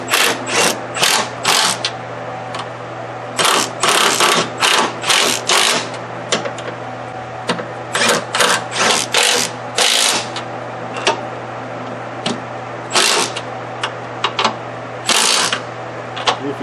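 Top strut mount nuts on a 2005 Toyota Highlander are tightened with an impact tool in repeated short bursts of buzzing rattle, loud and close, separated by brief pauses over a steady low hum.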